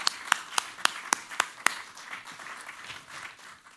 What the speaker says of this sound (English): I would like to ask everyone to join me in another round of applause